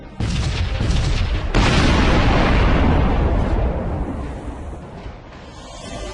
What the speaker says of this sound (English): Let's finish him off with the lasers. Commencing fire!